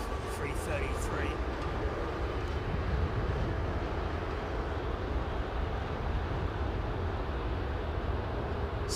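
Jet airliner engines at London Heathrow spool up at the runway line for takeoff, a loud, steady broadband rumble that builds and holds throughout.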